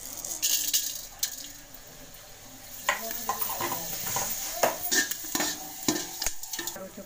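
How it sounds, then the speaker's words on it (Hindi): Red chillies and fenugreek seeds sizzle in hot tempering oil for a bottle gourd raita, with steady frying crackle and intermittent scraping stir strokes close by, and no talking. "अब मैं डालूंगी 2 लाल मिर्च। पहले हम इसको थोड़ा भून लेंगे।"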